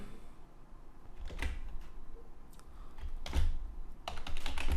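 Typing on a computer keyboard at close range: soft clicking keystrokes come in short clusters over a low room hum, with a few louder clacks toward the end.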